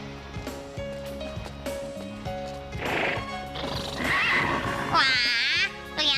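Cartoon horses whinny loudly in a series of shrill neighs over steady clip-clopping hooves and a continuous musical backing, with the calls growing louder toward the end.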